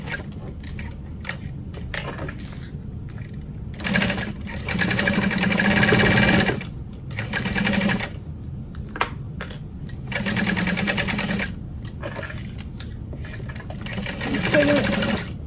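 A sewing machine stitching a zipper panel into a bucket bag at a long stitch length whirs in close, rapid bursts, stopping and restarting several times with short quiet gaps between runs.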